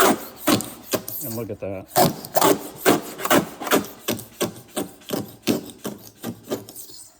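A blade scrapes paint from the body of a C3 Corvette with no chemical stripper applied, giving about a dozen loud, rhythmic rasping strokes close by, with a brief spoken remark mixed in.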